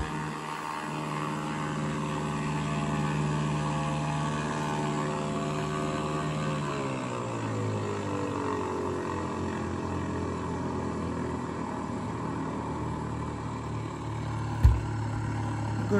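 An airplane engine drones steadily in a flight simulator video game, a sustained tonal hum whose pitch slides downward partway through as the throttle changes, ending with a brief sharp click.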